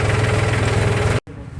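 A tractor engine runs in a steady, loud, low rhythmic throb on a village farm, cutting off abruptly near the end with quieter noise afterward.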